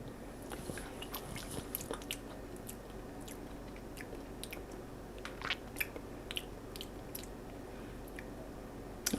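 Someone takes a small taste of a sweet and tangy keto dish sweetened with stevia, giving faint, close bites and soft chewing in a quiet room.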